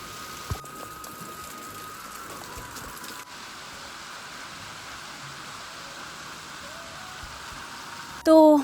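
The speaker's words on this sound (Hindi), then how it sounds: "बारिश जो है ना ये रुक नहीं रही है" Steady rain falls over a hillside farm area during pea sowing season, a constant hiss of drops on surfaces with a faint engine hum beneath and a brief loud burst near the end.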